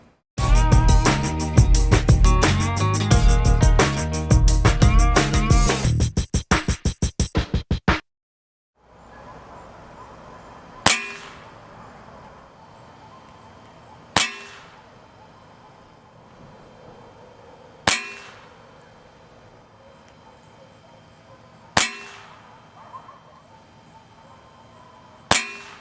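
Air rifle shots from an AR 2078A strike a metal target, several sharp single cracks spaced a few seconds apart, each with a short ringing decay, after a burst of unrelated loud sound at the start.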